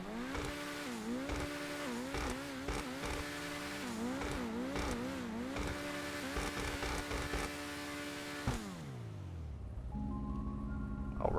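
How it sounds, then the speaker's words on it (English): A Grotti Turismo Classic sports car in GTA Online revving hard, its engine climbing and dropping through repeated sharp throttle blips with crackling pops, then settling into a lower idle near the end, close and clear with no talking. "I'm going to give it some gas and rev it up here, and we'll do that sound test"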